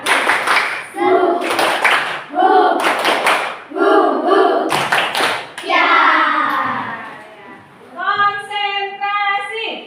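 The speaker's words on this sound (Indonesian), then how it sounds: "Ya, tepuk semangat." Indonesian classroom spirit clap, tepuk semangat: children clap in quick rhythmic bursts between chanted group responses, loud and close, ending in a rising sung chant.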